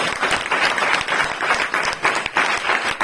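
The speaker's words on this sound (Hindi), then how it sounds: "तो एक बार जोरदार ताली बजाकर परमेश्वर का धन्यवाद करो" A church congregation bursts into loud, dense applause, a continuous wash of many hands clapping close and full for a few seconds, with no talk over it.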